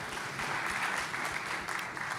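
Faint, even audience applause at the Transition Forum, a soft sustained patter of clapping from a crowd heard at a distance.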